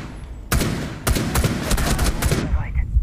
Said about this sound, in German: Der hat mindestens 5 Schüsse ausgehalten, der Capcom.